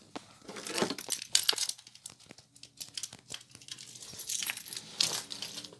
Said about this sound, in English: Go get them keys.